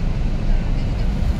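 Strong wind buffets the microphone on a motorcycle trip to Baguio during a storm, with a continuous low rumble and gusty roar, no other distinct sounds.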